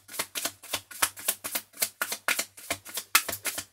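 Tarot cards are shuffled by hand in quick rhythmic riffles and flicks, close and crisp, a fast repeated patter lasting a few seconds with no speech.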